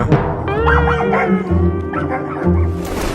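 A playful dog barks, yips and howls loudly and close by, with whining, wavering cries running through a few seconds of continuous vocalizing.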